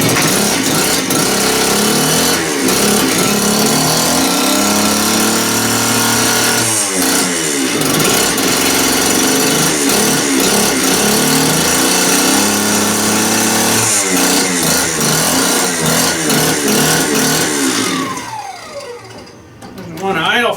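A Stihl TS400 cut-off saw engine runs on after assembly, refusing to settle to idle, with a loud, close two-stroke buzz whose pitch rises and falls repeatedly before dropping away near the end.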